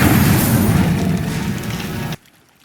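An Incendio fire spell bursts in the Hogwarts Legacy video game: a loud, close roaring boom that holds for about two seconds, then cuts off abruptly into near silence.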